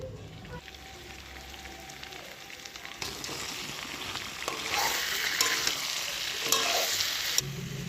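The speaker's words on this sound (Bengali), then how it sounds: "মাংসটা আস্তে আস্তে ঢাকা দিয়ে দিয়ে কষাচ্ছি" Meat fries and is stirred in a covered pan, a continuous close sizzle broken by scraping stirs and clatters that grow louder toward the end, with no talking.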